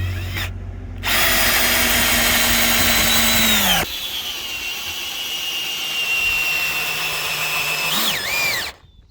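A power drill bores into a wooden batten for a garden fixing, running loud and steady for several seconds, then stops, spins down and briefly revs again near the end.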